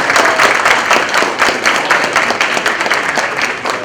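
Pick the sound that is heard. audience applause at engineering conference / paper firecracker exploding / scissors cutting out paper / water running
audience applause at engineering conference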